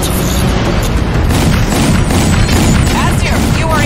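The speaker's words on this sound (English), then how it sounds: "Target locked. Missile away." A missile explosion in the video game Crysis 2 gives a loud, dense low boom that rumbles on for about four seconds, with crashing debris and bursts of action mixed in throughout.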